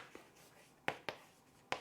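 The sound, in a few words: chalk or pen writing on a board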